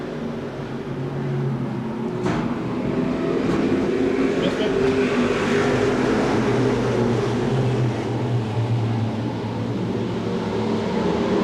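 Stock cars race around Seekonk Speedway in 1995, their engines forming a continuous mid-distance roar that swells and recedes as the pack circles, with a commentator faintly audible beneath.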